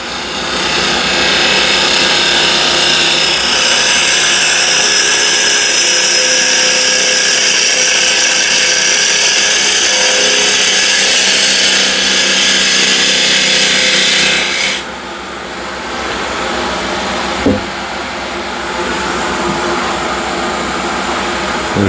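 A wood lathe spins a timber blank at 1900 RPM, giving a steady, loud broadband whir with a tool rubbing the wood for about fifteen seconds, then a quieter, lower hum with a brief knock near the end.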